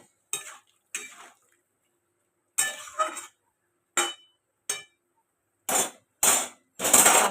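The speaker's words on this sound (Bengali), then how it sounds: "ঢাকনা দিয়ে দিলাম সিদ্ধ হওয়ার জন্য কুদরি আলুটা" A lid set onto a pot of ivy gourd and potato curry, heard as a series of separate metallic clinks and clatters of cookware, some sharp and bright, with quiet pauses between them and no talking.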